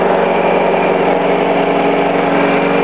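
A 4 hp lawn mower engine runs on gas from a charcoal gasifier, a loud, steady idle-like drone with even firing pulses that holds without a break and carries no voices.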